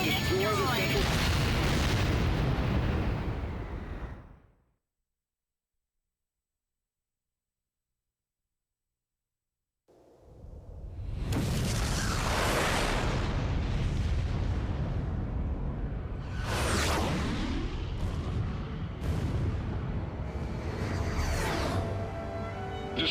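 Explosions from destroyed enemy facilities in Ace Combat Joint Assault roar loudly and close, a heavy blast fading into silence, then after a pause a dense series of booming detonations and rumbling bursts continues without letup.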